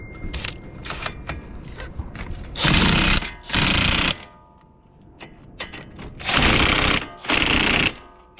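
Wire wheel on a power tool scouring a Toyota RAV4 front brake hub, loud whirring grinding bursts in four roughly one-second runs between quieter clicks and handling noises.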